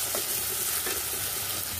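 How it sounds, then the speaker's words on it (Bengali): Ground spice masala of turmeric, chili and cumin powder with ginger-garlic paste sizzles and crackles steadily in a hot pan, close and continuous. "মশলাটাকে আমি কষিয়ে নেব"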